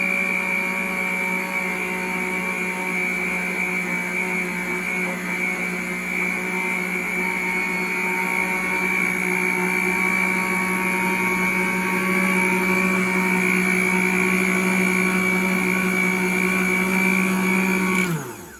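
An electric mixer whirs steadily while beating homemade cake pop mixture, a loud, constant motor drone that holds for about eighteen seconds before cutting off abruptly at the end.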